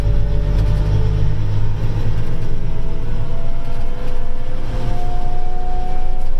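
An Apache 1240 sprayer drives on the road after shifting into fifth gear, its engine a loud, steady low rumble with a rising tonal whine, heard from inside the cab.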